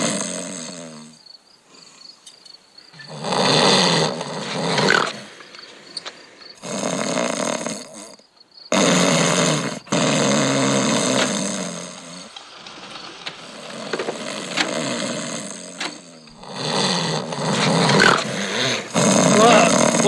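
Loud recorded snoring played from a tape at night, rasping drawn-out breaths coming in repeated bursts with short gaps between them, near and dominant.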